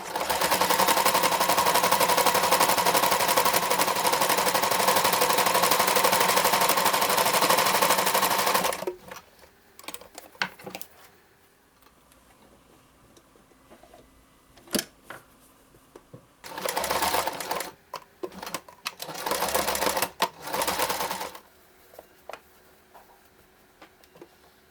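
A sewing machine stitches fabric for a reusable face mask, running in one long steady burst at first, then in several shorter stop-start runs separated by quiet pauses.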